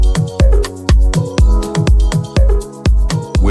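A layered piano and Pad Hearts synth preset from an Afro House Fever pack, with an init preset through a cutoff filter, plays a loud, punchy chord stab pattern, repeated in a steady rhythmic loop of short plucked hits.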